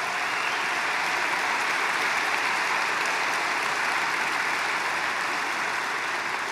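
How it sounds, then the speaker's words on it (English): Steady, sustained audience applause fills the whole stretch, dense and even from start to finish, honoring partners from the Qatar Army and Armed Forces at an event in the Middle East. "Let's give them a really special hand."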